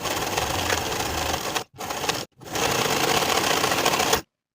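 A sewing machine runs fast stitching the seams of a sweater sleeve, a dense mechanical whirr with two short pauses before stopping abruptly, close and alone.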